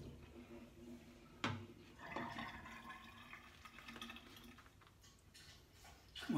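Water is added to shaving lather made from Crows Nest Tortuga soap, giving a quiet trickle and wet splashing with a brief clatter near the middle and louder handling noise at the end.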